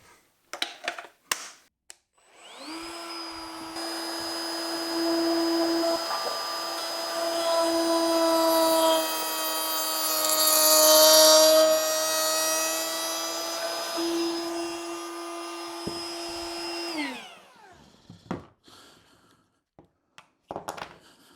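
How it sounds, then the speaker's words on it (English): A palm router fitted with a bearing-guided trim bit cuts along an aluminium jig, spinning up to a steady high whine that holds for about fifteen seconds, rises briefly mid-cut, then winds down, with a few small knocks before and after. "I can grab my palm router and set it up with a bearing trim bit on it to actually follow that aluminium jig"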